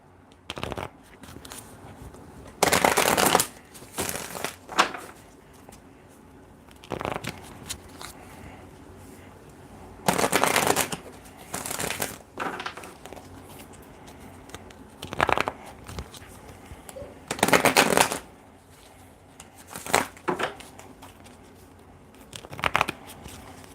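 Tarot cards being shuffled, repeated short papery riffle bursts in spaced clusters over quiet room tone, close and fairly loud, no talking.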